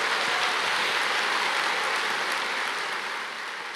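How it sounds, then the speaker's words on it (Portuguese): A church audience claps for Jesus in a dense, steady wash of applause that holds evenly and begins to fade slightly at the end. "Pode dar uma salva de palmas para Jesus."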